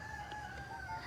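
Aggressive backyard rooster crowing, a brief strained cock-a-doodle-doo tone captured at moderate distance outdoors, alone without talk.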